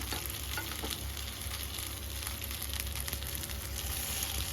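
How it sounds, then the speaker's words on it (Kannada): Fish sizzles steadily in hot oil in a pan while being turned over, a dense continuous frying hiss with a low rumble and a few faint scrapes, close and even throughout. "ಇವಾಗ ತಿರುಗಿಸ್ತಾ ಇದ್ದೀವಿ. ಒಂದು ಸೈಡ್ ಫುಲ್ ಫ್ರೈ ಆಗಿದೆ."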